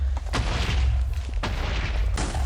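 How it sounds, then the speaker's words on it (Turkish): TNT blowing up in the game Minecraft, three heavy booming blasts about a second apart, each with a sharp crack and a rumbling low tail. "Şurada patlamayan TNT var. Tamam o da patlasın."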